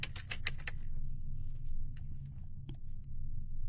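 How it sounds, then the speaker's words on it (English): A short burst of quick keystrokes on a computer keyboard, followed by a few sparse, faint clicks against quiet background hum. "We're going to type this anonymous internet."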